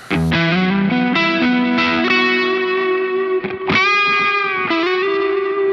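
A sustained, gritty electric guitar melody through an ODR1 overdrive pedal, notes bending and held over a steady chord, played alone and fairly loud.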